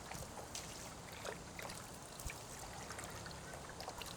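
A garden hose runs water into the top box of a homemade decorative water wheel, a steady close trickling and splashing that never lets up.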